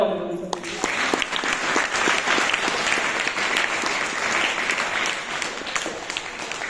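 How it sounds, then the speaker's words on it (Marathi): An audience at a poetry gathering in a children's school claps steadily for several seconds, with dense, close rapid clapping throughout and voices faintly under it. "जरा टाळ्या वाजवा."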